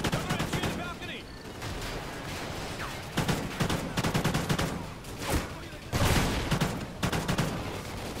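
Rapid machine gun fire rattles through a Call of Duty: Ghosts match, with dense bursts of shots and explosions overlapping in a continuous, chaotic firefight.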